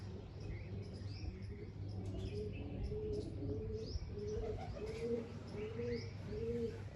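Pigeons, a white one among them, coo in a steady series of soft rounded calls, one after another at a close distance over a constant low background hum, with faint chirps higher up.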